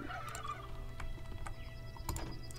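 A turkey in the farming video game Hearthlands gobbles in short, rapid warbling bursts, fairly faint over a low steady game hum, with no talk.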